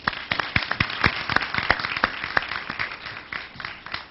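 Applause rises from an audience at a Morehouse College event as a speaker steps to the podium, scattered individual claps forming an uneven, moderately loud patter that thins toward the end.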